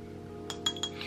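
A glass body milk jar clinks three times in quick succession, small and close, over a quiet steady hum, with no talking.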